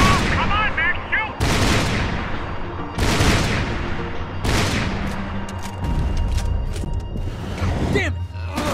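Gunfire in Max Payne 3, loud bursts of shooting in several volleys with sharp cracks and booms, mixed with speech and game noise throughout.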